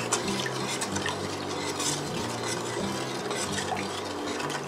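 Spoon stirring a pound of plain table sugar into warm water in a pot outdoors on a chilly day, a steady scraping swirl with faint clinks against the metal, continuous and close, over a low steady hum.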